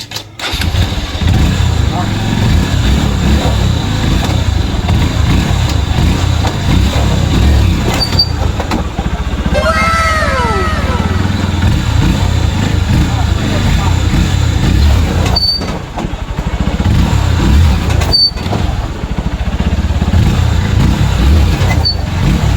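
Motorcycle tricycle engine being test-revved, a loud close engine running and revving under excited talk, with rising and falling pitch sweeps as the throttle is worked.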